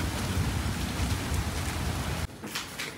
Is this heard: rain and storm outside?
yes